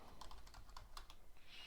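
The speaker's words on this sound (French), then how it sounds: "J'appuie sur M de mon clavier." Key presses on a computer keyboard, a run of quiet clicks in uneven rhythm, close and fairly soft, with no talking.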